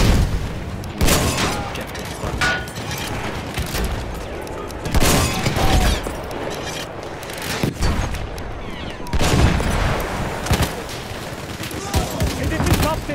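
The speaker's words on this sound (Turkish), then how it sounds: "Bomba fırlatıyorum!" Gunfire and heavy explosions boom repeatedly in a World War I Battlefield 1 Operations battle, bursts of firing overlapping with grenade blasts, loud and close, while a voice shouts over the combat.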